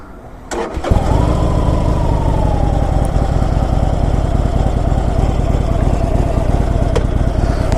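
A Harley-Davidson Iron 1200 motorcycle fires up after a brief crank, then settles into a loud, close, steady idle with an even, lumpy throb.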